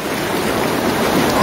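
Strong, rushing river current pours steadily and loudly close by at a fishing spot, a continuous broadband wash of water with no break and no voices.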